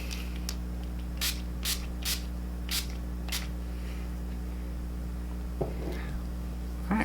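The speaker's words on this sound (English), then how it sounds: "Give it a good shake, and give it about 3 to 4 sprays." Spray bottle of detox toner misted onto the face, five or six short sharp hissing puffs in quick succession over a constant low hum, followed by a couple of soft rubbing sounds.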